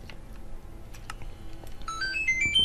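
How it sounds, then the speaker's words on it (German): A mobile phone ringtone chimes in clear melodic tones near the end, rising over quiet background noise during a Minecraft play session, with no talk. "Das war mein Handy."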